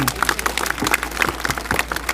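Crowd applauding at an outdoor political rally in the rain, steady scattered clapping at moderate distance, with a faint voice underneath.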